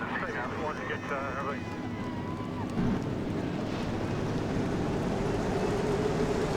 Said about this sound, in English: 42 engines come to life here in Concord, North Carolina